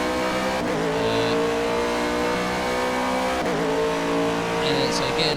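A race car engine in a racing video game at Spa revs high and steady, drops sharply at two gear changes, then climbs again, loud and close, with a short tire squeal near the end.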